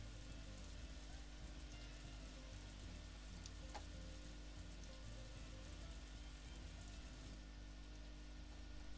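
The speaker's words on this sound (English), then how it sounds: "Why is it so rainy?" Steady rain falling in the farming video game Story of Seasons: A Wonderful Life, a soft continuous patter at low level with a faint background hum and no talk.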